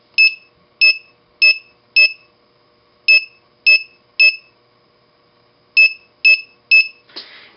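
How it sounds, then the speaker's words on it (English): Electronic buzzer driven by a touch sensor circuit's actuator output gives loud, clean beeps alone, first a run of four, then three, then three more, each short and evenly spaced, ending with a brief noisy burst. "We have our buzzer selected on our actuator pin block."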